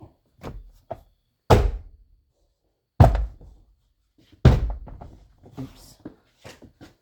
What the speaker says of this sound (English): can I put this door panel back on?